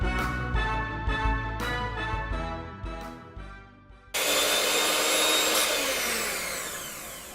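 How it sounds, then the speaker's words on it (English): An electric mixer beating buttery cupcake frosting until smooth kicks in abruptly partway through, a loud, steady, broadband whir that runs continuously to the end after a quieter opening stretch. "I'm beating it until it's smooth before I add more in"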